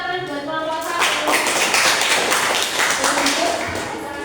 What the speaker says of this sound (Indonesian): yuk tepuk tangan buat kelompok satu